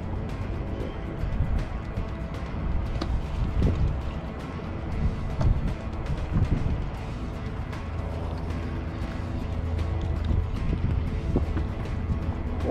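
Wind blowing over open water on a fishing boat, a steady rushing buffet against the microphone with gusty low rumble throughout and no talk.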